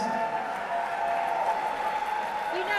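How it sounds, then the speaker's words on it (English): Crowd applause for the women's winners at a USA Climbing competition, a soft, steady wash of clapping held under a prominent announcer's voice for the whole stretch. "One more round of applause for the ladies."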